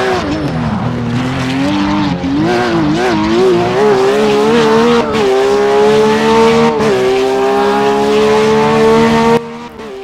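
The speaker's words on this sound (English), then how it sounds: "if you brake and turn the steering wheel immediately, you start oversteering before the corner, because the rear tire loses grip" Racing video game car braking hard and sliding into oversteer before a corner, the loud engine note wavering and dipping while tires squeal continuously under it, then cutting off near the end.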